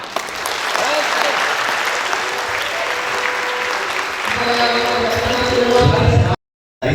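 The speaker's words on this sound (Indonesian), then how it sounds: "Tepuk tangan doa" Audience at a university guest lecture claps together, a steady roar of applause that swells near the end before cutting off abruptly, with voices and tones rising beneath the final seconds.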